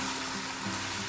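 Chicken manchurian sauce with oyster sauce sizzles hard in a hot pan, a steady close crackling hiss lasting about a second with no talk.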